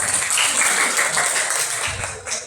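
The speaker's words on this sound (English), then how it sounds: "Let us give them a round of applause" An audience at a student debate gives a steady, hissing round of applause for the affirmative speakers, dense and sustained for a couple of seconds before tapering off.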